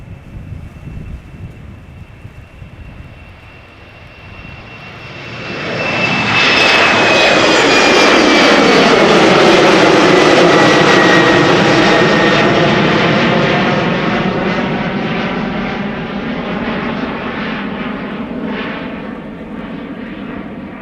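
A KLM passenger jet takes off from the Polderbaan runway at Schiphol, its engine roar swelling from a distant whine into a loud, sustained rumble that passes close and then slowly fades.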